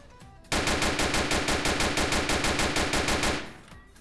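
Loud, close automatic gunfire in a police roleplay game, about twenty evenly spaced rapid shots in one sustained burst lasting around three seconds, with no speech over it.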